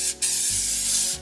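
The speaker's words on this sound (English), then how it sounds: "I'm just gonna spray the tops of these with some cooking spray." Cooking spray hisses from an aerosol can onto food in an air fryer, a short, loud, close burst with a brief break near the start and no voices.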